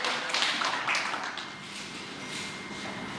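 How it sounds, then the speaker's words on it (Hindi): Applause from the audience at an alumni association annual general body meeting for Alok Gupta, steady dense clapping that rises briefly and then settles into an even, sustained patter with no talking. "आलोक गुप्ता जी के तालियां"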